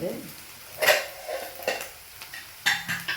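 Onions sauté with a little salt in a pan while a spoon stirs them, giving soft scrapes and clinks in uneven bursts over a quiet sizzle, close by.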